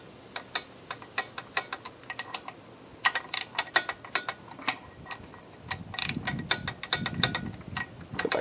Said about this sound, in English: we're going to torque these 3 bolts to 18 foot-pounds